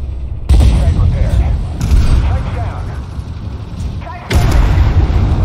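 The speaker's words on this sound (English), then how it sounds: "Took forever for that XM-183 to shoot the damn thing." Gunfire and artillery in a military shooter game, heavy booming blasts and rumbling explosions recurring every second or two over a constant loud battle din, with a voice talking briefly.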